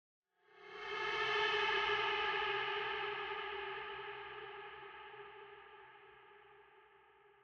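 A single cat meow heavily processed with distortion and reverb plugins, swelling quickly then fading slowly into a long, eerie reverberant tail.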